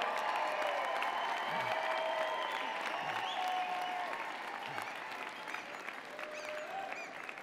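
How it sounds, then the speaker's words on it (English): Graduates at a University of Calgary convocation ceremony cheer and applaud in a large hall, a dense, sustained roar of clapping with whistles and shouts that tapers slightly toward the end. "Wave and cheer. Make some noise."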